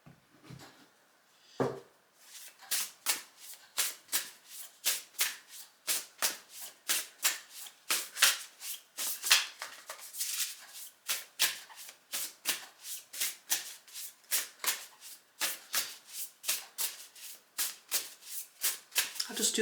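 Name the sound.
shuffling a deck of oracle cards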